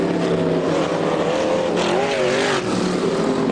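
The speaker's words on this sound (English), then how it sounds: "the number 5, metallic red, looks pretty schmicky, making its way out of turn 4." Metallic red imported CAE race car, number 5, powers out of turn 4 at a speedway during a demonstration run, its loud engine note rising and falling continuously close by.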